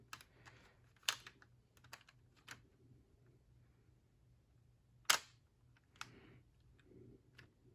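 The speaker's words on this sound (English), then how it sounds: "Now the best feature, which is a charging handle and bolt, which also includes the bolt catch." Charging handle and bolt with bolt catch on a plastic LEGO MP7 A2 model gun: a few sharp, close plastic clicks spaced apart, the loudest near the end, with quiet pauses between and no talking.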